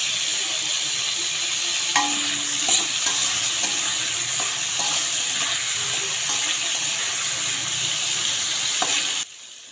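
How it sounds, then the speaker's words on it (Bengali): Shrimp and chopped bottle gourd fry in a pan, a steady close sizzle with occasional stirring scrapes, ending abruptly. "দেখুন এদিকে চিংড়ি মাছগুলো ভেজে আমি কেটে রাখা লাউগুলো দিয়ে দিলাম।"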